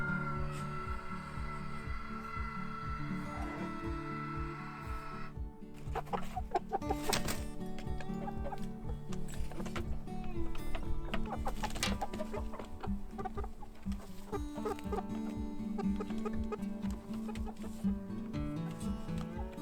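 Chickens cluck and murmur around a Nestera coop, a steady close-up flock chatter with overlapping calls and bursts of louder squawks that continue throughout.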